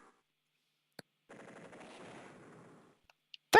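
An attack helicopter unit in Advance Wars fires a rapid machine-gun burst lasting about a second and a half. Sparse clicks come before and after it, then a loud hit lands at the end, all fairly quiet with no talk.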